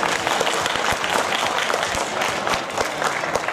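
Steady, dense applause from a crowd of baseball fans voting with their claps at a Chunichi Dragons and SoftBank Hawks mascot mini show, even in level throughout with no gaps.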